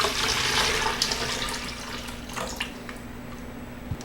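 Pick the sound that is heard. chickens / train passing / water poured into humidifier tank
water poured into humidifier tank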